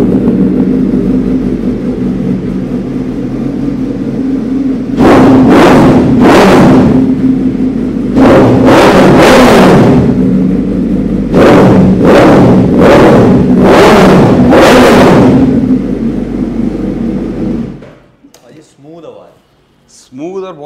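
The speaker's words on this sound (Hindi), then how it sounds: "ये फुल सिस्टम 4:1 ब्रॉक्स का एग्जॉस्ट लगा हुआ है" A superbike with a Brocks 4:1 full-system exhaust revs in a series of sharp, loud throttle blips over a steady idle, in two clusters of bursts before the engine cuts and goes quiet.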